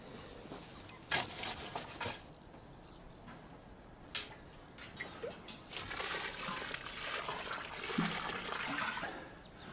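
Water poured onto the soil around a newly planted tree in a garden, splashing and trickling as it drains away, with a steady wet rushing and a few louder splashes throughout.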